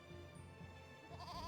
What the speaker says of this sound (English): So head up to this goat.